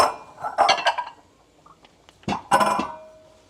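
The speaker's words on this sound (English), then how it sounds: "Another mixing bowl." Ceramic bowls clink and clatter as they are set down, two clusters of knocks with a brief ringing tone after the second.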